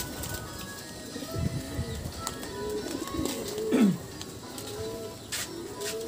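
Racing pigeons coo softly in a low, rolling call amid faint outdoor background noise, with an occasional rustle of wings.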